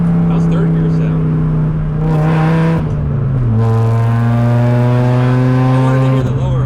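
Volvo 850 Estate BTCC tribute with custom individual throttle bodies and headers pulling hard in third gear, a loud, deep, harmonically rich engine note climbing, dipping at a shift, then rising again, close up inside the car.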